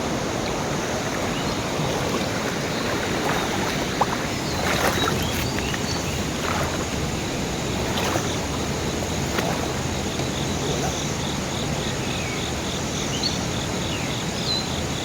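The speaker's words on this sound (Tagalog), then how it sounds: "Lakas ang agos dito." Strong river current rushing steadily, a dense broadband wash with faint insect chirps and a few scattered splashes and knocks over it, continuous and fairly close, without speech.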